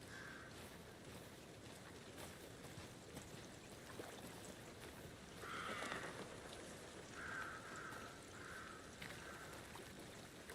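Steady rain falls in a video game scene, a soft continuous hiss of drops with faint tonal chirps drifting in and out, fairly quiet throughout with no voices.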